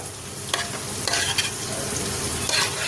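Kanda vegetable curry being stirred in a pan, soft sizzling frying under a few scraping spoon strokes, close and quiet, with no voices.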